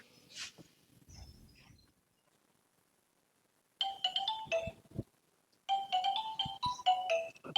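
A mobile phone ringtone rings in a rural Punjabi setting, two bursts of bright melodic tones separated by a short gap, preceded by faint low rumbling and quiet background sounds.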